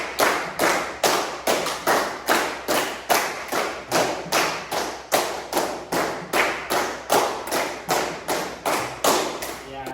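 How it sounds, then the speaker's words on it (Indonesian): Students in a classroom clap in a steady, even rhythm, roughly twenty sharp, close hand claps over ten seconds with no talking between them. "Tepuk 5 kali."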